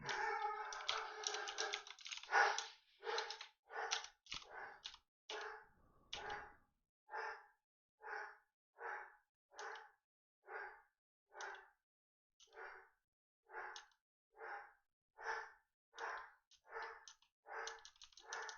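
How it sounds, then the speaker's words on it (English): A pet dog barks over and over in a steady rhythm indoors, close and loud at first, then settling into evenly spaced single barks with no talking. "Sorry, my dog is going nuts."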